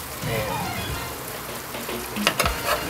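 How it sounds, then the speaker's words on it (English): A spoon turns and flips rice inward in a pot of arroz con pollo over a soft steady sizzle, with a few clearer scraping knocks against the pot near the end. "You want to take your spoon and you want to flip inward."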